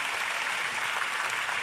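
Steady applause from a crowd at an Anwar Ibrahim public gathering in Johor Bahru fills the whole moment, even and sustained without voices.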